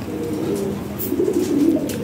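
A pair of Lahore pigeons coo nearby in low, throaty, rolling tones over faint background noise.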